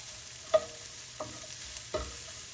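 Onions for beef stroganoff cook in a pan with a faint sizzle, broken by three clinking stirs of a utensil against the pan.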